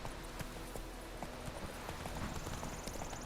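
Horse hooves clip-clop at a steady walking pace in The Witcher 3 video game, a clear, regular patter under a low ambient background.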